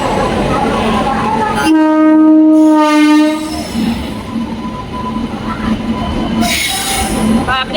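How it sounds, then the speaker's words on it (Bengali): A train pulls into Netanjali station with a long, loud horn blast, followed by heavy rumbling and high squealing wheels as it slows. "ট্রেন ঢুকছে এখন নেতাঞ্জালি স্টেশনে ট্রেন ঢুকছে"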